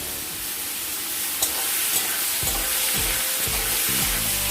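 Cut potatoes and pointed gourd hiss and sizzle steadily in hot oil with cumin, a broadband crackle filling the pan, with a few soft stirring scrapes near the end.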